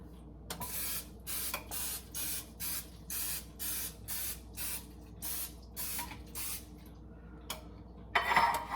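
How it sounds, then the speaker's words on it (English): Cooking spray hisses onto a cupcake pan in about a dozen short, evenly spaced bursts, close and clear in a quiet room, with a small clatter at the end. "Lightly sprayed."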